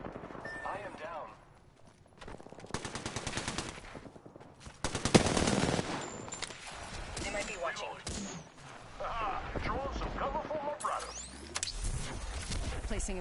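Bursts of rapid gunfire in a squad battle in Apex Legends, several automatic volleys and single shots near and far, with a voice talking over parts of it.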